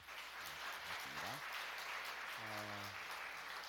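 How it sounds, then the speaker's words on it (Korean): Soft, distant applause from worshippers at a Korean church afternoon service holds steady throughout, a quiet even patter while someone speaks briefly over it. "하나님께 영광의 박수를 한번 올려드리겠습니다."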